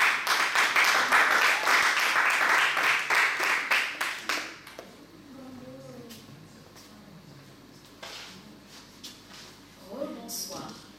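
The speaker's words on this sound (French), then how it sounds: "Applaudissez-la encore." Applause at a French spoken-word evening: a burst of many hands clapping quickly for about four seconds, then fading out, followed by quiet murmuring and a voice beginning to speak.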